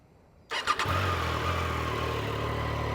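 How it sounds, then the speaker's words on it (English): A Triumph Daytona 660 triple-cylinder motorcycle engine cranks briefly and catches, settling into a steady, rumbling idle close by. "Let us very quickly fire up this motorcycle so that you can listen to that exhaust note"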